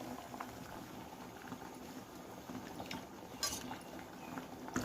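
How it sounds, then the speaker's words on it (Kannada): A pot of tempered sambar bubbles steadily at a rolling boil, with faint clinks of metal now and then and no voices. "ಒಗ್ಗರಣೆ ಕೊಟ್ಕೊಂಡಿದ್ದಾವಲ್ಲ ಚೆನ್ನಾಗಿ ಕುದಿಸ್ಕೋಬೇಕು"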